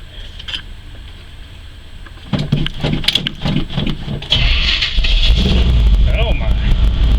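A 1976 or 1978 GMC truck engine is started warm with some choke. A few sputtering cranks with voices over them come first, then the engine catches and settles into a steady low rumble.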